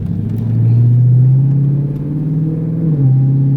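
A Cadillac CTS-V fitted with long tube headers accelerates hard in 3rd gear, its close, loud, deep exhaust drone rising steadily in pitch as revs climb, with a brief dip near the end before pulling on.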